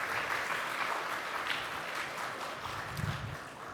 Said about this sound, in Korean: 나오실 때 힘찬 박수로 환영해 주시면 감사하겠습니다.